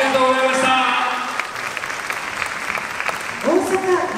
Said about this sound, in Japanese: 大きなご声援ありがとうございました。